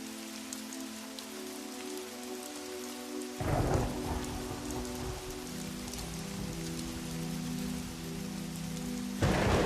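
Heavy rain pours steadily on a surface, growing denser and louder partway through as thunder rumbles low beneath it, with another burst swelling near the end; no voices.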